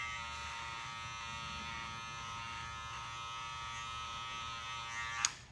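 Electric hair clippers buzz steadily and quietly while cutting a men's modern mullet, a constant close-up electric drone ending with a brief sharp clack.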